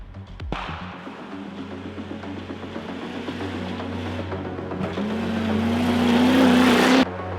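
A Suzuki Samurai rally car at the Breslau Rallye 2025, running with a suspected turbo fault, accelerates hard on a rough stage. Its engine drone climbs steadily in pitch and loudness before cutting off abruptly, with rattles and a sharp knock near the start.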